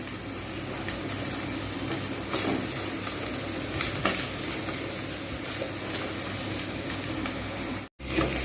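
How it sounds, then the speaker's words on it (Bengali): Ginger garlic paste sautéing over low heat in a pan for an egg korma, a steady close sizzle with faint scraping stirs throughout, ending in a brief dropout. "এটাও ভালো করে আমি কষিয়ে নেব একদম আঁচ কিন্তু কমিয়ে রান্না করতে হবে নাহলে মশলা পুড়ে যাওয়ার সম্ভাবনা থাকবে"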